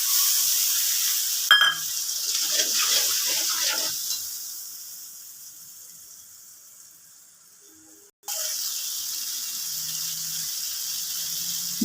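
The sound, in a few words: spice paste frying in fish-fried oil with black cumin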